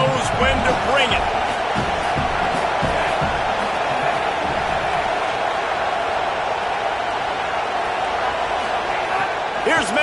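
A football game crowd roars in a continuous, broad wash of cheering, with scattered whoops rising early and late, while an announcer's voice runs over it.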